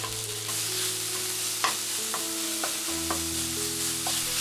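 Ground pork stir-frying with shallot and garlic in oil, a soft steady sizzle with occasional light taps of a utensil against the pan, close and alone.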